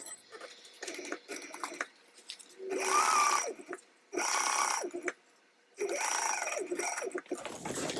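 A sewing machine stitches a bag's lining panel closed in several separate runs: quieter short bursts at first, then three longer, louder stretches of fast motor whir with brief pauses between.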